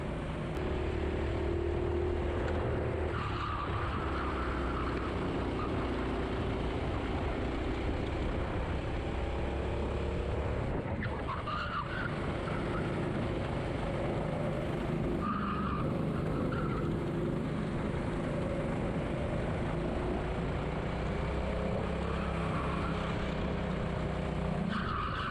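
Racing kart lapping Herefordshire Raceway in practice, a continuous high-pitched engine whine rising and falling through corners and straights, with tire scrubbing, sustained and fairly loud throughout.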